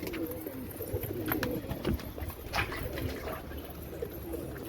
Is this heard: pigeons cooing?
yes